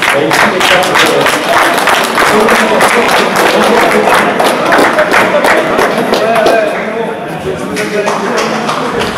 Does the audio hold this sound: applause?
yes